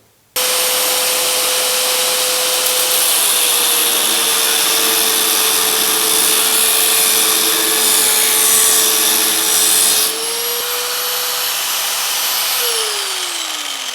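Power tool cutting metal on a car door during restoration prep, a loud continuous high whine with a steady tone that shifts pitch slightly partway through, running alone for over thirteen seconds.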